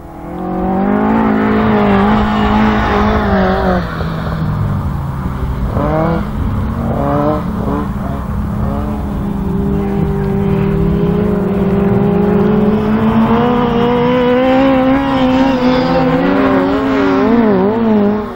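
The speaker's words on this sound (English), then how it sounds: "They're coming round now for the last lap flag coming out for Tristan Miss Grant" Autograss race cars roar loudly and continuously on the last lap of the finals at St Neots, with several engines revving and shifting pitch close by for the whole stretch.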